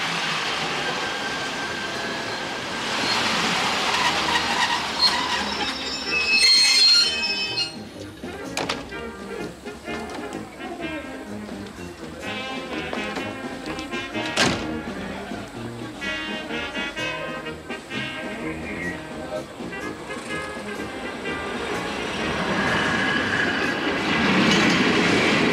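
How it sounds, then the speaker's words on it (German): A train rolls in along railway tracks in rural Upper Bavaria, steady rumble with rhythmic wheel clatter and brief squeals, building and fading over about half a minute, fairly close and loud. "Der Zug war pünktlich."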